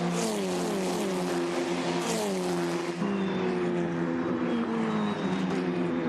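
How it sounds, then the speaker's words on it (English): FR Americas open-wheel race cars at speed on the Canadian Tire Motorsport Park straight, a loud steady engine whine with rising and shifting pitch as cars pass close, continuous throughout. "These cars are lightning fast. They get up to about 260 kilometers an hour on this straight."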